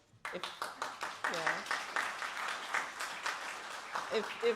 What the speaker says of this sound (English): a very huge round of applause to the first 3 speakers